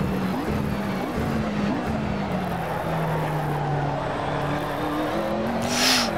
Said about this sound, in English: once you hear those tyres squealing